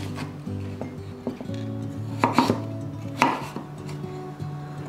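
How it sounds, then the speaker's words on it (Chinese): A knife slices a peeled carrot on a cutting board, a few soft, sparse cuts and scraping taps close by over a low steady background hum. "这里切片"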